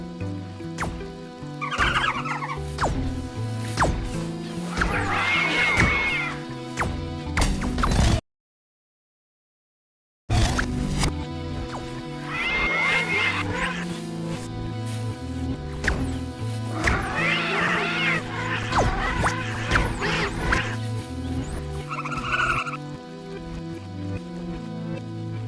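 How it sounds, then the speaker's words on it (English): Music and sound effects from the 2D puzzle platformer Braid play backwards during a time rewind, a dense, continuous layered wash that cuts out for about two seconds midway and then resumes. "As you rewind time, the music and sound effects play backwards."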